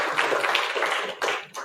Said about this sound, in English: maybe a quick round of applause